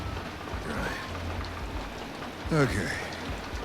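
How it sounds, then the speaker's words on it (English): Heavy rain pours steadily in the Detroit: Become Human video game, a constant hiss running throughout while a voice speaks briefly and a louder tonal sound cuts in near the end. "the heavy rain would not be nice with that"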